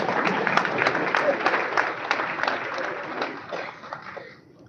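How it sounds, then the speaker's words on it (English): A round of applause from the audience at a Rotary district governor installation ceremony, dense clapping that swells early and gradually thins and fades toward the end. "Actually, I thought you will have a big round of applause for this."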